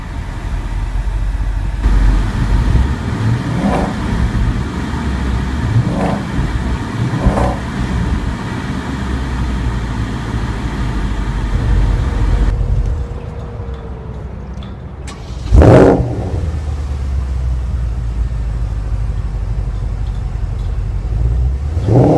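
A 2014 Porsche Panamera GTS engine cranks and fires with a loud, sudden surge, then settles into a steady, rumbling idle. Before the start, a continuous hum of vehicle and background noise is heard, with no talking.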